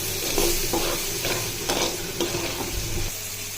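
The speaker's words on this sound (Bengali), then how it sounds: "চিংড়ি মাছটাও ভেজে নেই।" Prawns fry in a pan while being stirred, a dense close sizzle broken by rhythmic scraping strokes, loud and continuous without speech.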